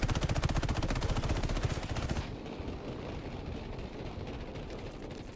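Battlefield V machine gun firing explosive bullets: a very fast, loud stream of rounds that stops after about two seconds, leaving a rumbling blast-like wash that slowly fades.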